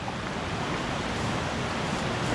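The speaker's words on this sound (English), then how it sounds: "It sounds like there should be a really loud, decent sized waterfall by the sounds of things, but no, it's just a tiny little waterfall." A tiny waterfall trickling in a forested canyon on Vancouver Island, heard as a steady, soft rushing wash of water with no breaks, faint and even throughout.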